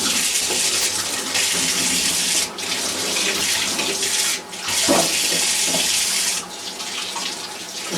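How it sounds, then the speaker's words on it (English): Running tap water pours over a sheet of watercolour paper as both sides are wetted, a loud, steady hiss and splatter with a few short dips and shifts in tone as the sheet is turned. "run the water over the paper both sides"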